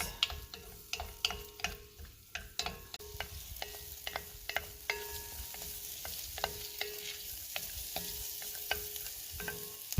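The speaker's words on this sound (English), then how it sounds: "let's go ahead and saute this" Sautéing in a pot for potato and corn chowder: a continuous close sizzle broken by frequent scraping stirs and sharp clicks of a utensil against the pot, busy and irregular throughout.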